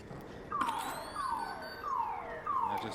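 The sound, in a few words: alarm going off in video game ARC Raiders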